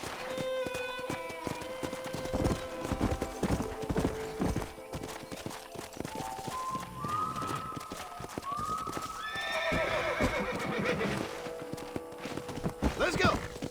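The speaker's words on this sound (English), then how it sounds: "let's see if you can still ride a horse" Horse hooves clop at a steady gallop in Red Dead Redemption under a horse's whinny, with people talking over the continuous busy hoofbeats.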